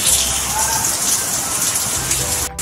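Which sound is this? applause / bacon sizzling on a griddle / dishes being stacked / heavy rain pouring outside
heavy rain pouring outside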